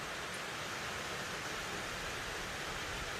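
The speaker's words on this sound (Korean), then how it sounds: "저 밑으로 저 폭포 물 수량 정말 좋네요" A steady, dense rush of heavy-flowing water from a mountain valley waterfall fills the space evenly, heard from nearby.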